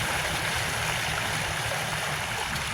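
Floodwater from an overflowing river pours back out of a flooded rice field in Cabuyao City after heavy rain, a steady, loud rushing and gurgling flow with no voices.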